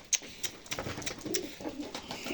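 Pigeons cooing close by in a Turkish bird loft, with a few soft coos and wing or movement noises over a quiet background.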